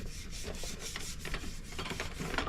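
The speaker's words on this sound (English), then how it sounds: "piece of steel wool just to kind of scrape it down" Steel wool scrapes the sticky, greased shaft of a trailer jack in a steady, close, rasping rub. The back-and-forth strokes keep going without a break for a few seconds, and no one speaks.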